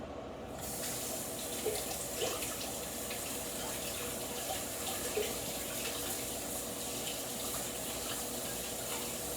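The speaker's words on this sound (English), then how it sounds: "Give these a really good rinse" Water runs from a kitchen tap as vegetables are rinsed beneath it, a steady close splashing hiss that continues unbroken with small shifts as the produce is moved.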